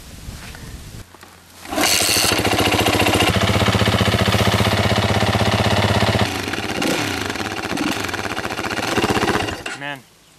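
A motorcycle engine cranks and catches, then settles into a loud, close, steady running idle with a rattly mechanical edge, dropping slightly before cutting off near the end.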